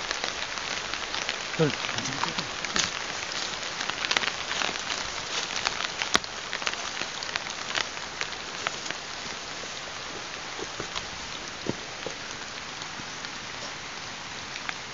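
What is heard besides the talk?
heavy rain falling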